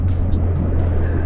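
A Mitsubishi Lancer Evo 4 drives along, its engine a steady low drone heard from inside the car with continuous road and wind rumble and no speech.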